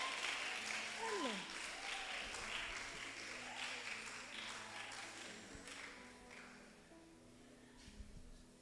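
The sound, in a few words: audience clapping for a singer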